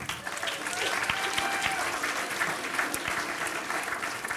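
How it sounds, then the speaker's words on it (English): A room of people at a startup pitch evening claps for the entrepreneurs present. The applause is dense and loud, sustained from start to finish with a crowd murmur beneath it. "How about a round of applause for every entrepreneur in the room?"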